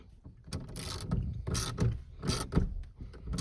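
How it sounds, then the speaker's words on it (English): Ratchet loosening the steering wheel nut on an S10 during a wheel upgrade: a series of close metallic ratcheting clicks and clunks in uneven bursts, with no talking. "you keep your hand on the ratchet"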